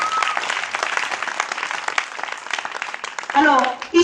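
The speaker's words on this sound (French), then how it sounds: "Acclame le Seigneur très très fort" Church congregation clapping and cheering for the Lord, a dense burst of close applause mixed with shouts that holds steady, then a voice rises near the end.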